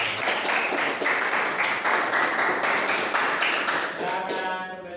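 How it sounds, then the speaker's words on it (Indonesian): A classroom full of students clapping together in a steady, sustained round of applause that fills the room, then fades into scattered claps and a few voices at the end. "Beri tepuk tangan."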